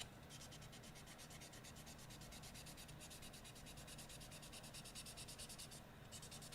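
Steady hand sanding of a Volkswagen car body with 400 grit sandpaper, a continuous close, even rubbing rasp with quick rhythmic back-and-forth strokes and no voices.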